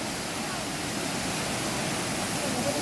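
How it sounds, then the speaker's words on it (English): A waterfall at Nong Bua Lamphu rushes in a steady, broad, continuous roar heard close and fairly loud, with no break across the whole stretch. "This is the waterfall that comes all the way down from up the top there."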